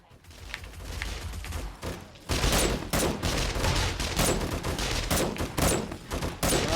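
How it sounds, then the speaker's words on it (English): Automated turrets in the zombie survival game 7 Days to Die, on insane difficulty, fire dense rapid bursts at approaching zombies, a loud continuous fusillade of gunfire with sharp cracks that intensifies after a brief lull. "These turrets are a lifesaver, everybody."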